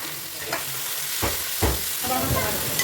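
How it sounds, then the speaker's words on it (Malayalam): Sliced onions frying in hot coconut oil in a pot for a chicken parts curry, with a soft sizzle under several scraping stirs of a spoon at an uneven pace, heard close and without talk. "സബോളയെ നമുക്ക് നല്ല പോലെ ഇളക്കി കൊടുക്കാം. നന്നായി ഒന്ന് വഴറ്റി വരട്ടെ."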